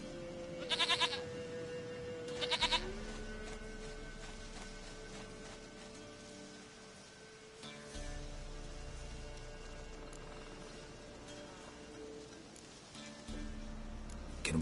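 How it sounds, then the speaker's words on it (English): Faint ambient scene from The Witcher 3 with a goat giving two short, sharp bleats early on, then quiet background tones, a soft thump and another brief cry near the end, no voices. "Goat of mine, dearest, sweetest goat."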